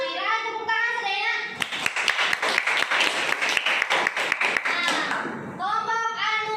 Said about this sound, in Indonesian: berarti dan ngairan tepuk tangan sedaya